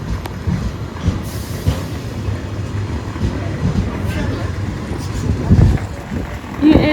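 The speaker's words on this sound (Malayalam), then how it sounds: "ഇത് ഞങ്ങൾക്ക് പോകാനുള്ള ട്രെയിനാണ്." A train standing at a railway station, a loud low rumble and mechanical hum with scattered clanks and a squeal, heard close amid platform bustle and people talking.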